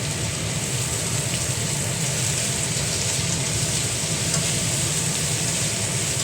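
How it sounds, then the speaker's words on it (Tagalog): Garlic and ginger sautéing in a hot pan, a steady, dense sizzle that holds evenly and close throughout with no talk. "Gisa-gisa lang natin to."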